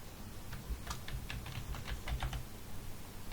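Rapid keystrokes on a standard computer keyboard as a new password is entered, a steady string of close, crisp clicks with brief pauses between bursts and no voices.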